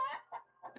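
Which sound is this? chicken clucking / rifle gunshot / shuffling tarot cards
chicken clucking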